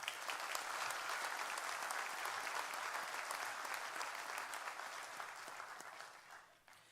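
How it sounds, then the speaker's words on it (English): Steady applause from a crowd at a sheriff's office awards ceremony, even and sustained throughout, heard from some distance and tapering slightly at the very end. "All right, one more round of applause."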